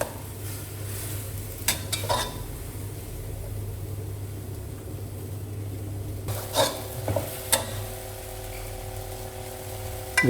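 Bamboo shoots stirred in a pan of boiling Thai basil chicken sauce, with a steady low simmering hiss, scattered spoon scrapes and clinks against the pan, and a busier patch of stirring late on.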